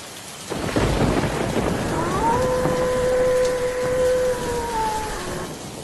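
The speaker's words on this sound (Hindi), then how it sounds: "आसमान में बिजली कड़कती रही और ज़ोर ज़ोर से बारिश पड़ती रही।" A thunderstorm with heavy rain, a loud crack and rolling rumble of thunder over a dense, steady roar of rainfall on surfaces, with a sustained tonal hum running through the middle.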